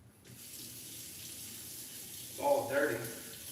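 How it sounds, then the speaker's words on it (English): Tap water runs over freshly cut cantaloupe in a sink, a soft steady stream that swells into a louder splashing burst near the end. "Let me rinse it off real quick."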